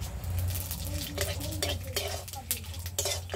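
Dried red chillies, two bay leaves and five-spice seeds dropped into hot oil, a soft crackle and sizzle under repeated stirring scrapes and clinks of a utensil against the pan.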